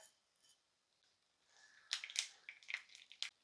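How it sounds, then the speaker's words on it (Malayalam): Mustard seeds popping in hot oil in a pan for a taro curry, a quiet start then a cluster of sharp crackling pops close by, no talk. "കടുകൊക്കെ പൊട്ടി"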